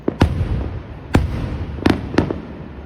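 Firecrackers and fireworks burst outdoors in several sharp bangs, irregularly spaced, over a steady background of crackle and distant noise.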